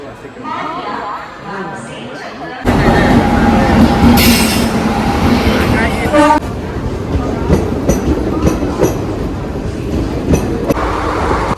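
A train pulls into a busy railway station, its rolling rumble and squealing wheels loud and close, with people talking on the platform throughout.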